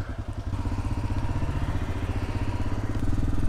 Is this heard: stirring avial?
no